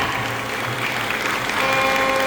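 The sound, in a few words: audience applause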